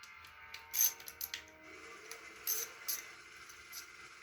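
A hand ratchet turns the clutch cover bolts on a Suzuki GSX-R1000 motorcycle, giving bursts of close metallic clicking and rattling in short irregular runs over a steady background hum.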